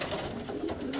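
Pigeons coo softly inside a loft where medium-sized female racing pigeons are kept, a brief low murmur of calls over steady background noise.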